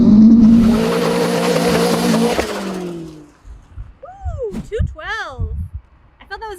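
Car launching hard from a standstill, loud engine roar with a rising pitch sweep over the first three seconds, then fading as someone talks excitedly close to the microphone.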